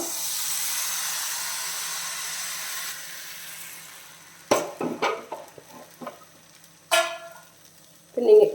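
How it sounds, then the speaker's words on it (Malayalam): Appam batter goes into a hot pan with a soft hiss, then the pan is swirled, giving several short scraping knocks and clatters against a quiet background. "നമുക്കിനി ഇതിൽ ഒഴിച്ച് കൊടുക്കാം ചുറ്റിച്ച് കൊടുക്കാം"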